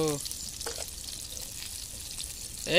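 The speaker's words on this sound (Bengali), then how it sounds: "এপিট ওপিট করিয়া বাইজে লইতে হইবে" Steady hissing sizzle of rohu fish frying in hot oil, moderately loud and continuous, with brief bursts of voice at the start and end.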